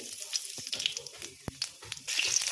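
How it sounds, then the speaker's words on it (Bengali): Nigella seeds sizzle in leftover fish-frying oil while rohu fish curry is being prepared, producing a steady crackling hiss with a few sharp pops and a brief clatter midway, close and moderately loud. "এবার এই মাছ ভাজার অবশিষ্ট তেলেই আরেকটু তেল যোগ করে কালো জিরে"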